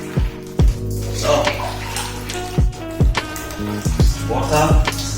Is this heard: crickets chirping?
no